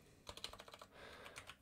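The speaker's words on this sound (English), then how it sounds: "I'm not really good at typing" Rapid bursts of keystrokes clatter on a computer keyboard close by, a quick irregular run of taps, then a short pause and more typing, with no voices.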